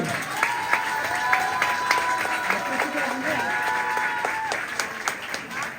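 Guests applaud at a Christian wedding, steady crowd clapping with sharp individual claps, while a voice speaks over it throughout.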